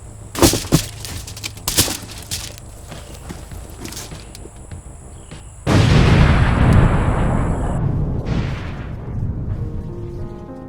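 A homemade film-effect explosion destroys a 5G tower: a few sharp knocks and clatters come first, then a sudden loud, rumbling blast that roars and slowly decays into a fading rush.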